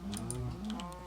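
Cow mooing in Minecraft FTB Infinity Evolved, a short, close, tonal low moo with a few faint clicks over it.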